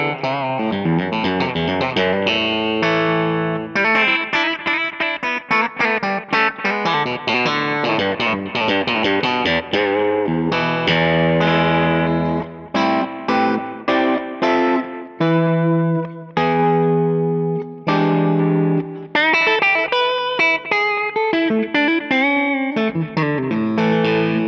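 Distorted electric guitar with vintage pickups plays a continuous run of chords and single notes, full, warm and woody with some effects, alone without any voices.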